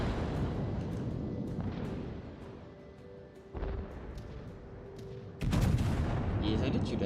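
Battleship secondary guns fire in a naval combat video game, a sequence of booming, rumbling shots with sustained low roar and a loud heavy blast near the end, over continuous in-game background noise.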